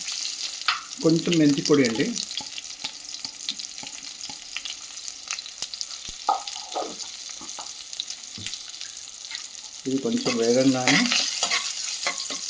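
Steady hot-oil sizzle of a spice tempering with asafoetida and fenugreek powder fills the clip, with a person talking briefly near the start, middle and end.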